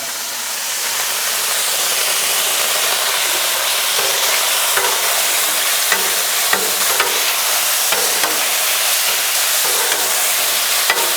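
Pork sizzles on a hot griddle for drunken noodles, making a loud, steady frying hiss with small pops and occasional stirring scrapes. No one talks.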